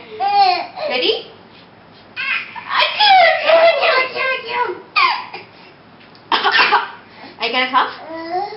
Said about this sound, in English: Are you gonna cough?